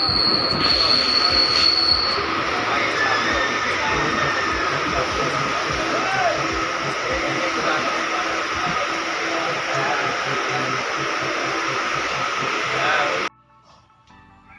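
A train rolls past a railway level crossing gate at Habra, loud and close: a sustained roar of wheels with a high squeal early on, continuing steadily before cutting off abruptly near the end.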